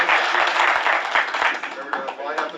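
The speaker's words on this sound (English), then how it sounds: "I will pause for applause and then take questions." An audience at a podcast talk on scientific paranormal investigation breaks into applause, a steady rush of clapping with a few distinct nearby claps, while voices talk over it.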